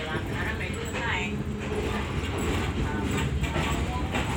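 A moving train rumbles in a steady, continuous wash of noise, heard from on board with voices mixed into the din.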